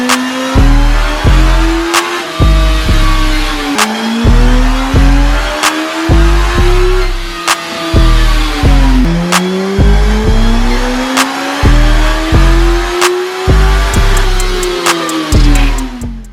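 A 2016 Suzuki GSX-S1000 with a Yoshimura exhaust revs repeatedly on a dyno while warming up, its engine note climbing and dropping in a steady cycle, loud and close with no talk.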